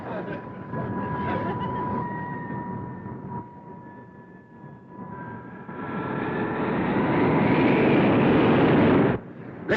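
An old bus engine revs hard and steadily while its wheels spin in mud, the roar swelling louder toward the end before cutting off, with people talking over it.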